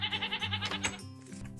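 Minecraft sheep bleating, a few wavering bleats close by in quick succession, with no talk over them.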